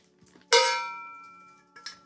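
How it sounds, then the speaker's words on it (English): Meinl signature cowbell with a vintage steel finish struck once, a sharp bright clang ringing out and decaying over about a second, with a faint second tap at the end; close and clear, no talk. "This is signature cowbell designed with Mike Johnson"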